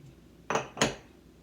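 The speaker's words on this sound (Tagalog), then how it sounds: "Mix together the sugar and then the salt." Sugar and salt being stirred together in a bowl for scone dough, giving two quick, close clinking scrapes of utensil against bowl in an otherwise quiet kitchen.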